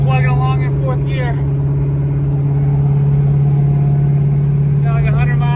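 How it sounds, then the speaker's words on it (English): A car engine drones steadily at constant revs while cruising along in fourth gear on a long highway drive, running a little hard, a loud even hum under someone talking at the start and end. "Still plugging along in 4th gear."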